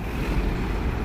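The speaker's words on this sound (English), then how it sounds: "Oh shit, it's windy too." Outdoors on a cold morning, strong wind roars steadily against the microphone in a dense, rumbling rush with no other sounds or voices.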